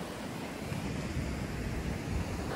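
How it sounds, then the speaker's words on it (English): Large ocean swell surging against a rocky shoreline, a steady broad roar of surf with wind buffeting the microphone, continuous and close with no talking. "The waves are so big, I can't even fish pretty much."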